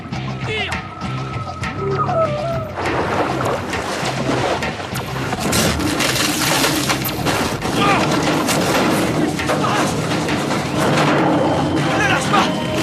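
Gunfire in a dramatic film scene: dense, loud, rapid volleys of shots that run continuously throughout, with voices calling out beneath the roar.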